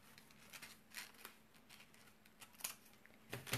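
Scissors snip paper for an Immaculate Heart of Mary kite, a series of faint, crisp close cuts in an irregular rhythm in a quiet room.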